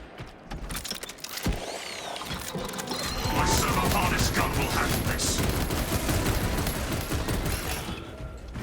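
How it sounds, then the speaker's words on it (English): The servo harness gun fires in Warhammer 40,000: Space Marine 2. Mechanical clanks and whirring give way to a loud, sustained burst of rapid gunfire that fills the rest of the moment amid other game noise. "My servo harness gun will handle this."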